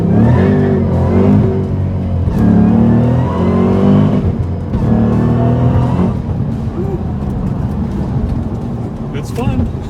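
Supercharged 2011 Ford Shelby GT500 with a Whipple blower, about 750 hp, launching on an older low-traction asphalt road: a loud, close engine roar that revs and pulls hard through gears, with someone speaking over it.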